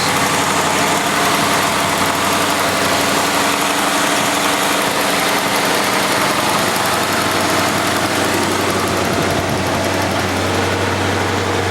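A 1980 Lincoln Continental Mark 6 engine idles too high, a loud, constant droning rumble that holds steady with no pauses or voices.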